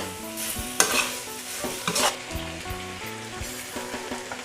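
Pork ribs stir-frying in a hot pan for a honey-roasted rib dish, a steady loud sizzle with repeated scraping and clattering of a utensil against the pan, no talking.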